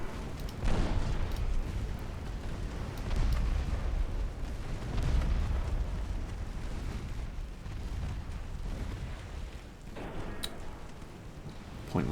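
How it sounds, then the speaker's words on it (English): Naval guns of 2-inch calibre in a war game pound an enemy transport: repeated muffled booms and bursts roll on in irregular waves, fairly faint and distant, with no voices. "Transport getting absolutely hosed by the 2-inch guns"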